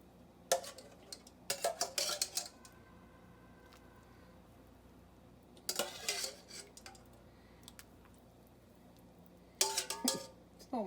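Metal clatter of a small soup pot and utensils being handled while fish broth cooks, three separate bursts of clinks and scrapes with quiet pauses between them.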